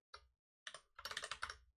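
Quiet bursts of typing on a computer keyboard: a single short burst, then a pause, then a quicker run of close, soft key clicks in an uneven rhythm.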